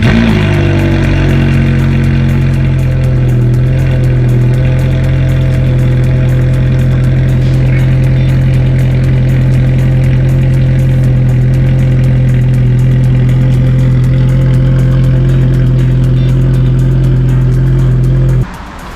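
Manual Ferrari F430 engine running steadily while driving, a loud, close, sustained mid-pitched drone with little change in revs, cutting off abruptly at the end.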